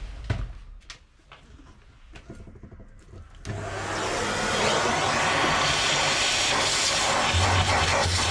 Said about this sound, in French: Donc aspirateur.